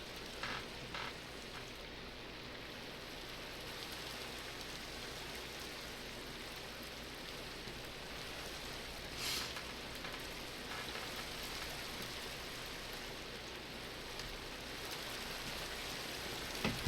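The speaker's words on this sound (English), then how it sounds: "Get rid of that rain." Steady rain pours in a Minecraft world running the Tektopia mod, an even hiss of drops on surfaces that holds constant throughout without voices.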